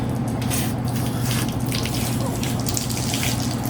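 Running water sprays steadily while hair dye is rinsed out by hand at a sink, a close, continuous splashing hiss with small shifting splatters.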